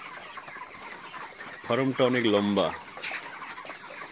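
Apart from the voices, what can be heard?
chickens clucking in a poultry farm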